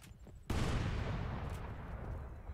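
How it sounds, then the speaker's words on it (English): A grenade blast goes off in the Crackdown video game, a sudden loud boom after a brief quiet lead-in, followed by a long rumbling roar that slowly decays with scattered debris. "Uh-oh, someone's throwing grenades."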